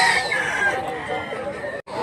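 A rooster crows loudly and close by, one long drawn-out call that fades near the end, with farmyard noise around it.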